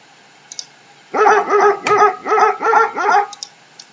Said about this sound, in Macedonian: Кучето.